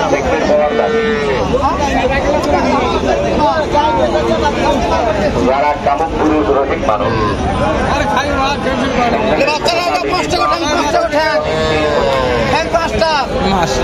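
A busy weekly cattle and livestock market, with cows mooing repeatedly near and far over a constant crowd babble of buyers and sellers talking.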